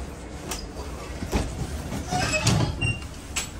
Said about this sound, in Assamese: ট্ৰেইন চলি গ'ল ট্ৰেইন চলি গ'ল